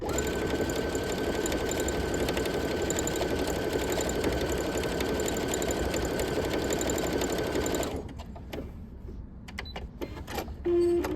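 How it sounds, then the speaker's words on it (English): A sewing machine stitches fabric in a fast, continuous mechanical whir for about eight seconds, then stops, leaving faint handling clicks. "once I put my piece of fabric right here and I begin to sew,"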